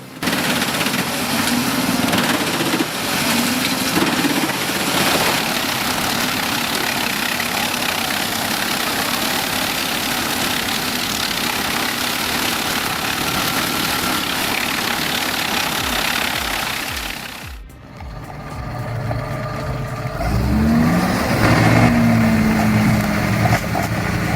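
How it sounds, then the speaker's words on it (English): A wood grinding machine driven through the PTO of a John Deere 7730 tractor, a Rotor S stump crusher with a roller feeder and spinning blades, grinds logs in a loud, steady, rough roar. It cuts off briefly, then the engine returns at a lower hum. "Its roller feeder grabs hold like a wolf with jaws locked, pulling the log into spinning blades."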